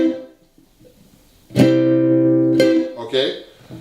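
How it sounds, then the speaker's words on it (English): Two sustained instrumental notes playing the Charleston rhythm, the first held about a second, the second short and accented, followed by a brief voice; quiet lead-in before. "the first rhythm of the Charleston starts like this."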